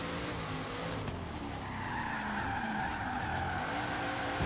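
Car tires skidding and squealing in Forza Horizon 3 racing game, a sustained loud screech over engine roar as the car slides sideways, continuous for several seconds.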